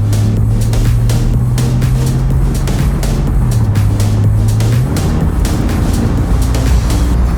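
Loud, sustained engine roar from a Porsche driven hard at high revs around 4,000 to 5,000 RPM, with a steady droning tone that shifts pitch partway through, heard from inside the car with no talk.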